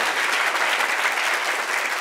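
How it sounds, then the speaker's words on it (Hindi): A crowd at a Buddhist vihara gathering in Kamthi bursts into loud, continuous applause for a child's correct answer, with dense clapping holding steady throughout. "जोरदार तालियां"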